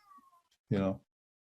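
A cat lets out a single loud, drawn-out meow lasting about a third of a second, following faint, quiet talk.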